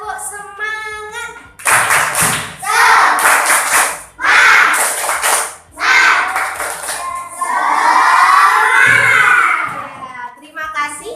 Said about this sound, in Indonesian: sekarang kita tepuk semangat dulu